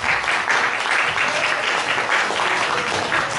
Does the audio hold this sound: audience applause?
yes